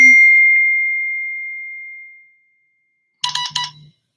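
Incoming call on a mobile phone: a single sustained chime tone rings out and slowly fades, followed after a pause by a brief burst of layered electronic tones.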